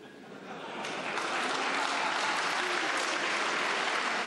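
Applause in a parliament chamber, a dense crowd clapping that swells quickly and holds loud and steady before cutting off, with no speech over it.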